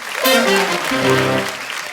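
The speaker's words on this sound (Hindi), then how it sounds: "इनके लिए जोरदार तालियां।" Studio audience applause on a comedy show, a brief burst of clapping that rises quickly and is partly masked by a loud musical sting playing over it.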